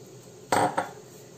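A spoon scrapes and knocks twice against a bowl while mochi filling is stirred with added warm water, two brief clattering strokes close by against a quiet background.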